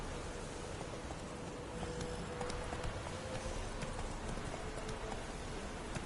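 Roach the horse gallops across open ground in The Witcher, with a steady rhythmic clip-clop of hooves over continuous wind and rustling noise at a moderate level.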